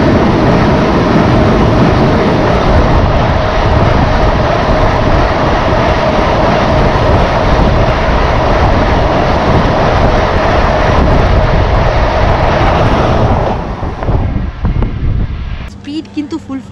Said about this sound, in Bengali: এটা কিন্তু সেই অমৃত ভারত এক্সপ্রেস।